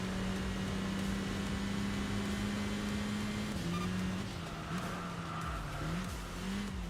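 A Callaway Sledgehammer race car engine in the video game Enthusia Professional Racing drones at steady pitch, then dips and rises through gear changes, moderately loud with no voices.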